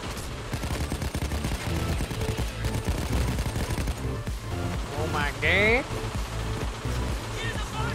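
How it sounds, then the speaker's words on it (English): Rapid bursts of gunfire ring out in a multiplayer shooter game as the player comes under attack during a drill-fixing objective, dense and loud under overlapping chatter, with a brief whistling effect midway. "I'm getting shot at"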